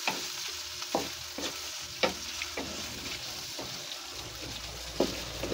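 Squid balls and kikiam fry in a pan with a steady, close sizzle, broken by several sharp stirring scrapes spaced a second or so apart.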